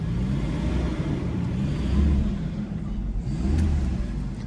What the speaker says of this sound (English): Put it into park, and then just rev it up a bit so you can hear it.